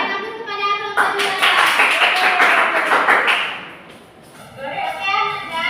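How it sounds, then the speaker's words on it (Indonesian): A classroom of students claps for a group that has just presented, a burst of quick, close hand claps lasting about three seconds before dying away, with a teacher's voice before and after. "Berikan aplaus kepada kelompok dua"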